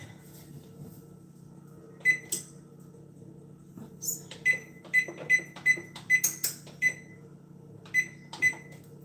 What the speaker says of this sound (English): We set our timer